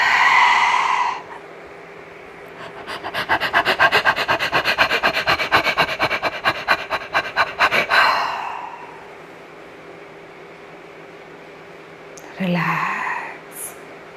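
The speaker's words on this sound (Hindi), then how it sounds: "ब्रीदिंग की आवाज़ आएगी" Deep breathing exercise for lung strength: a breathy exhale, then a long run of rapid, rhythmic forceful breaths, followed by quiet and another short breath, close and fairly loud.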